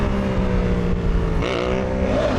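A Yamaha MT motorcycle engine runs loud and close, its steady drone climbing in pitch as the throttle opens through the gears, with no speech over it.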